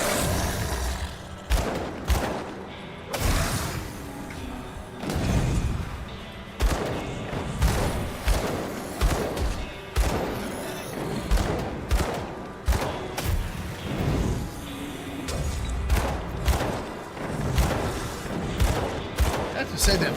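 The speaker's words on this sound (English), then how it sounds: "Say that fire blast is super helpful right now." Fire blast spells cast by a sorcerer in the video game Grim Dawn, heavy repeated booming bursts in quick succession, loud and close over game noise, with a voice talking at times.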